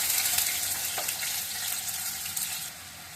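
Mixed vegetables (spiny gourd, pointed gourd, carrot, potato and green chilli) frying in a pan, giving a steady bright sizzle with a soft watery hiss throughout, close by and without talk.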